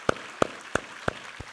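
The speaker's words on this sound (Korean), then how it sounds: "우리 하나님께 감사와 영광의 박수 올려드리겠습니다." Five separate sharp claps spaced evenly about a third of a second apart, the last one softer, with no voices around them, in a church service.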